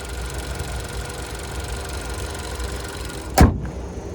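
A Hyundai Kona N Line's 1.6 turbo four-cylinder running at idle, a steady low hum at moderate level, broken near the end by one brief sharp knock or thump.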